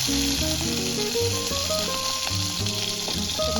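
Green chillies roast in a covered pan on the gas stove, giving a steady, close hiss of sizzling oil that runs throughout beneath prominent background music.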